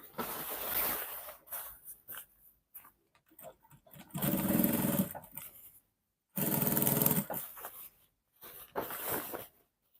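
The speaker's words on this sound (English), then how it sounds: "you sew all the way down" A sewing machine runs in bursts while stitching a half-inch seam down the back of a bubu gown, with short loud runs separated by pauses and quieter handling noises.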